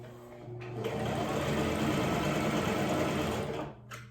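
Sewing machine running steadily as it stitches around the edge of a homemade fabric mask, a continuous close whirring hum that starts, holds for several seconds and stops, with no talking.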